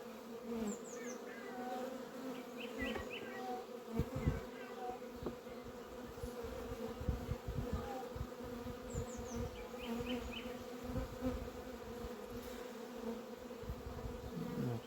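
Honeybees humming steadily at a weakened hive after rainy weather, a constant low drone with occasional individual bees buzzing close by and outdoor birdsong faintly behind.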